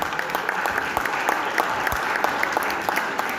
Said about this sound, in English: give a resounding applause for all the presenters here